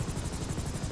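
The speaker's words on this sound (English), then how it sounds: "This is a helicopter from Coastal." A helicopter in the video game GTA 5 gives a steady, fast rotor chop with a broad engine roar, loud and continuous for a brief moment with no talk.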